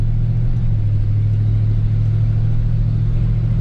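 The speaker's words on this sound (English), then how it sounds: "Let's get some exhaust, maybe you can hear." A 1962 Chevrolet Bel Air lowrider's small-block V8 rumbles while accelerating, with a steady low, throaty exhaust drone, continuous and fairly loud throughout, with no voices.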